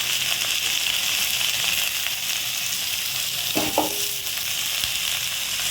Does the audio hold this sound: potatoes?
yes